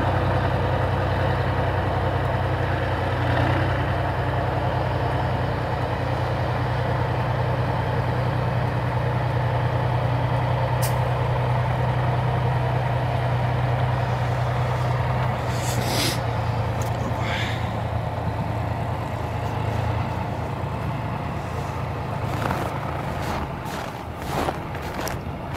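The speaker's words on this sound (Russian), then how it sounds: "Трактор очень мощный, должен справиться." A powerful tractor working on a gravel road in November, its engine droning steadily at a low pitch throughout, with occasional sharp clanks and scrapes over the rumble.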